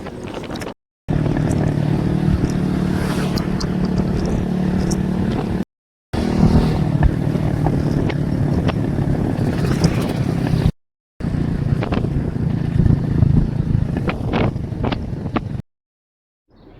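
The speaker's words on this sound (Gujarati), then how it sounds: "મામા બહુ જ ફાસ્ટ ગાડી આગે છે" A vehicle speeding along a road with heavy wind buffeting the microphone, a loud continuous rush and rumble that cuts out briefly a few times.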